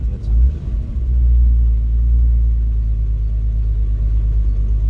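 A VW Golf 3 VR6 turbo engine, suspected of a spark plug or ignition lead fault, restarts and settles into a loud, steady, close low rumble at idle.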